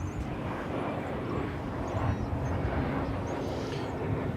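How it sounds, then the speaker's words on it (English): An American Airlines Airbus A321 arrives at Dallas Fort Worth airport, heard as a steady, distant roar of jet engines with wind rumble and no clear change in level. "is this American Airbus A321 Flight 871"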